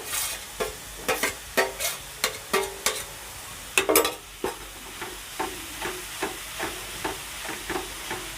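Chopped coriander is sautéed with ginger and garlic in a pan for kothimbir vadi, a spatula scraping in quick regular strokes over a soft sizzle, close and without speech.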